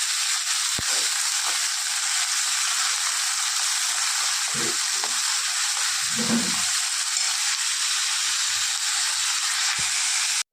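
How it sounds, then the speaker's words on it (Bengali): Onions frying in hot oil in a pan make a constant bright sizzle throughout, with a few short crackles and soft stirring thumps near the middle, no talking. "এবার পেঁয়াজটাকে ভালো করে লাল করে ভেজে নিলাম।"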